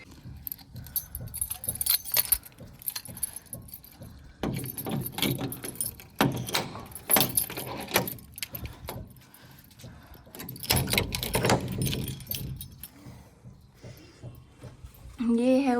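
Keys jangling as they are picked up and carried up a staircase to a storeroom at home, intermittent metallic clinks and rattles mixed with footsteps, under frequent nearby talk.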